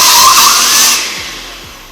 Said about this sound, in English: This blender sucks.